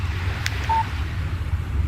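A short, single electronic beep for a text message on a phone in the Alan Wake video game. It sits fairly faint over a steady windy, watery ambient background.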